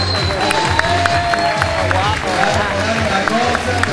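Audience applause at a seal show: a steady wash of clapping from the crowd, loud and close, with regular low thuds pulsing beneath it throughout.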